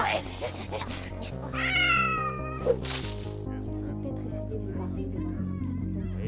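A small pet cat in an animated cartoon meows once, drawn out and clear, over a steady music score.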